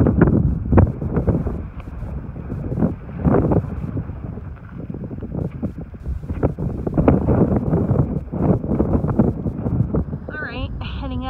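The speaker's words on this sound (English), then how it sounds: "It is fairly windy" Strong, steady wind at Dead Man's Pass on an exposed mountain climb, buffeting the microphone in continuous gusty roars that last throughout.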